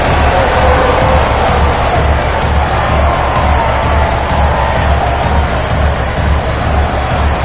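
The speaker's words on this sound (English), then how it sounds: "There's a real excited buzz around the crowd here." Crowd in the rugby video game Rugby Challenge 3 keeps up a loud, continuous excited buzz of cheering and shouting, dense and unbroken from start to finish.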